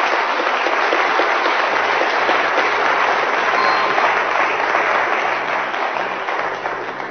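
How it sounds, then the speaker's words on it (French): Steady studio-audience applause for a contestant on a French television quiz show, dense and even throughout, slightly fading toward the end, with no talk over it. "Ben, applaudissements pour Bastien, quand même."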